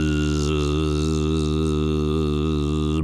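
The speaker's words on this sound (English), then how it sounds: "Those are bees, said River." A steady, low droning buzz like bees hums evenly for a few seconds, then stops abruptly.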